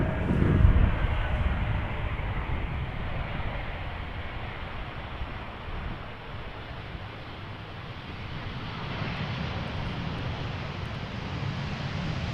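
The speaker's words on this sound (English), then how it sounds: "this is KLM Flight 1474 being flown by German Airways. It is an Embraer 190 arriving from Glasgow" A KLM Embraer 190 airliner arriving from Glasgow roars steadily as it lands at Amsterdam Schiphol in gusty crosswind, a broad continuous engine rumble and wind noise that holds throughout at moderate distance, with no voices.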